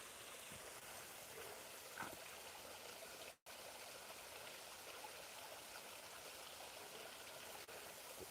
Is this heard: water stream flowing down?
yes